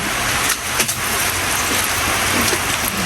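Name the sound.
rain falling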